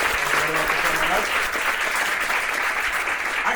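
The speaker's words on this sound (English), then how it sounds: "give him a big round of applause" Crowd at a charity comedy show breaking into sustained applause, a dense, even roar of clapping with a few voices calling out briefly near the start.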